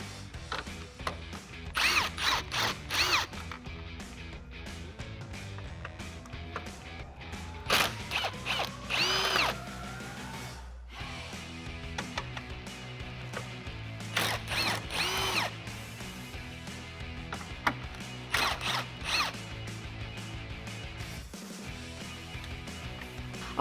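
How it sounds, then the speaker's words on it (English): A power tool with a 10mm socket whirs in repeated short bursts, close and moderately loud, backing out the four 10mm bolts on top of the grille of a 2009-2018 RAM 1500. "grab a 10mm socket, and what we're going to do is remove the 4 10mm bolts holding on the top of our grill"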